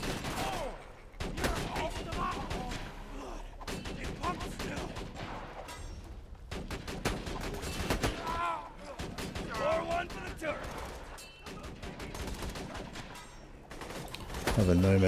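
Gunfire in Borderlands 2 from a sniper rifle: repeated sharp shots and bursts crack through a busy, loud battle mix for the whole stretch, with brief lulls before the firing picks up again, ending in a heavier low thump.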